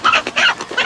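A rooster crows in a movie scene, a loud, close, ragged call in several surging bursts that fill the short moment with no voices over it.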